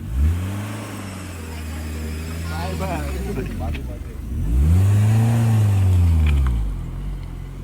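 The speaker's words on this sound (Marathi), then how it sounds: "गाईज एक गाडी चालली पुढं" A car engine passing close by, swelling and then fading, with a second louder pass that rises and falls again, a steady mid-pitched drone heard alone.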